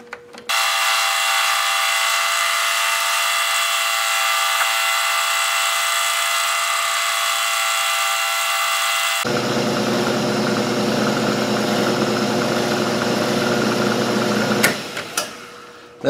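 A milling machine's cutter machines a flat spot on a small scope height gauge part, a steady high whine and hum that shifts to a lower, grittier tone partway through, then stops abruptly near the end.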